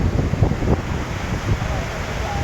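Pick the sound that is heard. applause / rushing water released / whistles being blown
rushing water released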